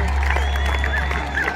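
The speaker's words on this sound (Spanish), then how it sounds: "Toda la gente está aplaudiendo porque ya se acabó ya." A crowd applauding at a Memorial Day event outdoors at night, continuous clapping from many people at a moderate distance over a low hum, with faint voices mixed in.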